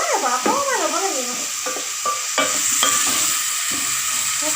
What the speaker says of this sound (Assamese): পিঁয়াজখিনি অকণমান ৰঙচুৱা হোৱালৈকে ফ্ৰাই কৰিম